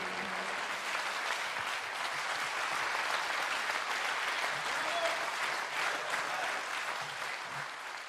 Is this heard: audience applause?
yes